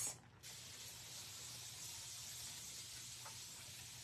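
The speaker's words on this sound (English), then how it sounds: "Let me spray this." Aerosol spray can misting over a butterfly craft project, a steady continuous hiss lasting several seconds after a brief start, close and fairly quiet.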